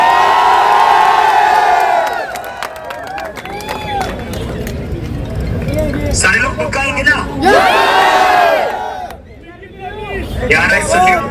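A large crowd at a night-time torch-lit protest march in Sikar cheers, whoops and shouts in loud, swelling waves, with someone speaking over the din and a brief lull near the end.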